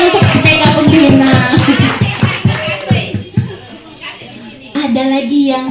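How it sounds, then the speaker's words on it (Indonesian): Clapping for a kindergarten group at a school gathering, a burst of rhythmic applause from a crowd mixed with chatter and children's voices, fading midway before talk resumes. "Tepuk tangan untuk TK pembina."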